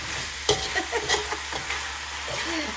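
Vegetables for pancit being stirred in a hot pan, with a run of irregular scrapes and clacks of the spatula over a continuous sizzle, fairly close.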